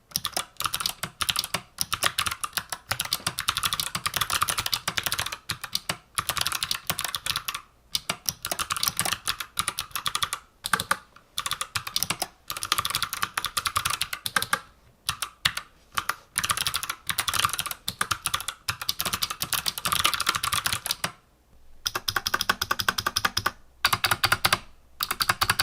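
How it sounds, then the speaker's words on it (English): Typing on a wooden GK61 keyboard with Kailh Box Jade switches and Razer PBT keycaps: fast, crisp clicky keystrokes in a dense, steady stream with brief pauses, close and alone. "the most significant thing about this wooden keyboard is its feel and sound. Incoming sound test right about now."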